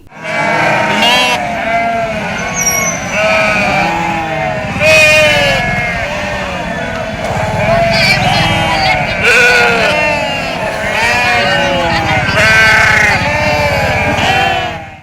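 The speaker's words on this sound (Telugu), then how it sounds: "ఒక్క గొర్రె వెనక వేల గొర్రెలు తలకాయ నేలకేసి బే బే అని మోతుకుంటా బేజారు చేసినాయి" A large flock of sheep bleats loudly and close by, many overlapping, wavering cries running continuously with no pauses.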